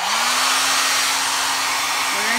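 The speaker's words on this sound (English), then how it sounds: "Now, I'm gonna take my blow dryer and we're going to turn it on low." A blow dryer set to low, used at an arts-and-crafts session to push paint around, gives a steady, close whoosh of airflow with a low motor hum, unbroken and heard on its own.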